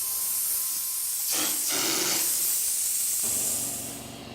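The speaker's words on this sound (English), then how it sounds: "He's going to go ahead and spray it with the hopper gun and just kind of fill that in." A hopper gun spraying masonry coating over a stencil, heard as a steady close hiss with a louder burst of spray in the middle that tapers off toward the end; no talking.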